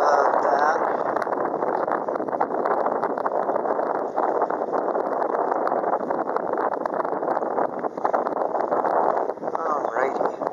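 Cold wind blowing outdoors buffets the microphone with a steady, loud broadband rumble throughout, with small rustling and handling noises.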